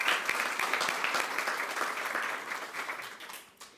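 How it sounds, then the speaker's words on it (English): A room of people clapping for an organizer at a Domestic Violence Awareness Month proclamation event in Laredo, Texas: a dense, moderately loud round of applause that gradually thins and fades. "Please give her a big round of applause."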